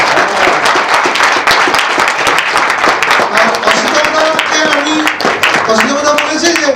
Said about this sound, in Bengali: জোরে একটা হাততালি হোক।